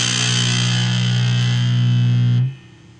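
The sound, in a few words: Danelectro French Toast pedal distortion, knob maxed out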